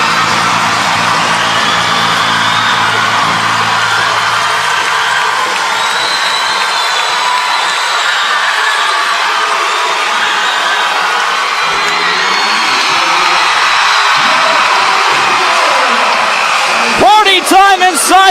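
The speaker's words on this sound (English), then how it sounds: "listen to this crowd" A packed basketball arena crowd at the Felix Event Center roars after a home win, with sustained loud cheering, whoops and shouting that carry on throughout and peak in bursts near the end.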